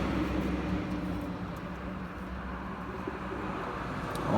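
Racing pigeons kept in a loft with a new nesting box coo softly and continuously under a dense, steady bed of background noise, with low rumbling traffic in the distance and no talk.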